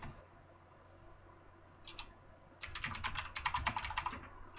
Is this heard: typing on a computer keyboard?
yes